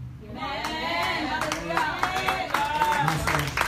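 A church congregation claps in scattered, uneven bursts under a preacher's voice, the hand claps fairly faint and mixed with talking throughout.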